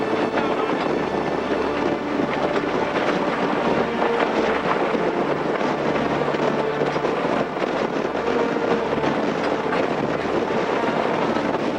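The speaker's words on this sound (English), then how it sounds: "the note of the wind in the rigging, the slapping of the sea, and the rattling of the sails" Strong wind roars steadily through a racing yacht's rigging during a Sydney to Hobart race as sea water slaps and splashes against the hull, a continuous loud wash with no voices.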